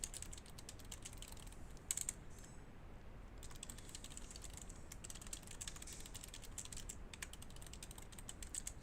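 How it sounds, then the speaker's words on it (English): Quiet, steady typing on a computer keyboard, rapid clicking keystrokes with a brief pause midway. "I'm just going to go ahead and start typing"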